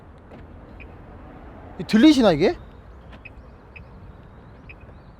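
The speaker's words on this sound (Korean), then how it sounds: "이게 또 문을 잠그고 열 때 소리가 되게 독특하더라고요." An Audi A7 50 TDI Quattro sounds its distinctive lock signal from the key fob: a single short, warbling electronic chirp lasting about half a second, followed by faint tones, with a brief spoken question just before.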